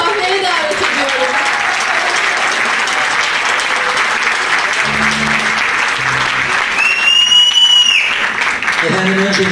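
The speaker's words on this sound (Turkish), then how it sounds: "Şimdi de alkışlarınızla şefimiz Çağdaş Susever'i sahneye davet ediyorum." An audience at a concert of Turkish classical music applauds as conductor Çağdaş Suseven is welcomed on stage; loud sustained clapping throughout, with brief instrumental tones and a voice surfacing partway through.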